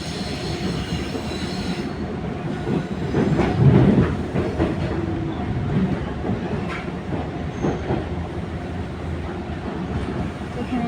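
A metro train in Canada pulls away from the platform, wheels clacking and rumbling loudly then easing to a steady roll, with a voice speaking over it.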